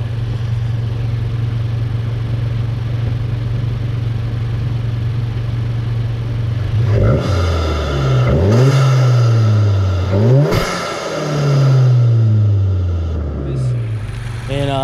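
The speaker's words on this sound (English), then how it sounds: "I want to do some intake noises, give you some sound clips real quick." A Volkswagen MK7.5 GTI sits at a steady idle, then its intake roars through several sharp revs that climb and fall back. Loud and close, with no talk.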